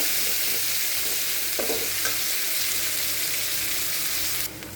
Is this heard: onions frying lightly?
yes